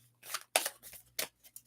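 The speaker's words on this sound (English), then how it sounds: "I pulled out all the signs, so I'm just going to shuffle them out." A deck of tarot cards being shuffled by hand, close up, in several short papery riffling bursts separated by brief pauses, with no talking.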